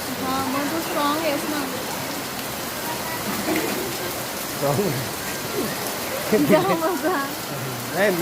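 First monsoon rain falling in Mumbai makes a steady, dense hiss of drops that fills the whole stretch, with voices talking over the downpour.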